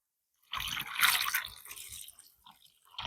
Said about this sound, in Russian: И добавляем обыкновенную минеральную газированную воду.